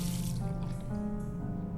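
Water running steadily from a tap in The Last Door, a continuous close wash with a faint tonal hum of game music beneath it.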